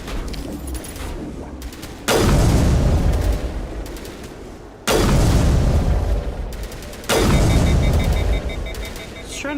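Video game gunfire comes in three loud, abrupt bursts, each a blast followed by sustained rattling fire that tails off before the next volley, with softer shots in the quieter gaps.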